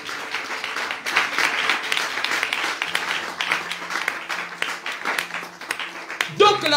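A church congregation breaks into sustained clapping and acclamation, a dense crackle of hands with voices mixed through it. It ends with a louder burst of voices.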